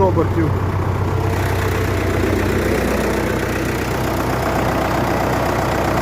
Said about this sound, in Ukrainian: так працює, якщо ви чуєте, вихлоп став набагато рівніший